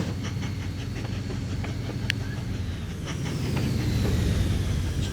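A train running in the railway game Mashinky, heading into Aberystwyth station, gives a steady low rumble with faint rhythmic clicking and a brief high squeal, continuous and moderately loud.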